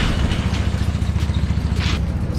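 Chinese Helix 150cc go-kart engine idling after a cold start in a garage, a steady, fast, close putter of small-engine pulses with a few faint clanks.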